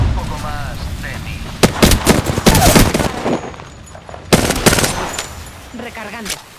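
Apex Legends gunfire rattles in sharp, loud automatic bursts, with several distinct volleys separated by short pauses, and game character voices speak between the shots.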